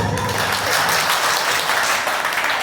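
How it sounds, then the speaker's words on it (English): A classroom group claps together in a dense, steady burst of applause lasting a few seconds, close and fairly loud with no talking over it. "Clap for them."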